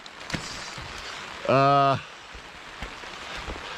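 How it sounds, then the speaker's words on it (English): Rain falling at a springtime paddling campsite with snow around, a faint steady patter of drops across the whole stretch, briefly covered by a short tonal voice-like call in the middle. "We knew it was gonna rain."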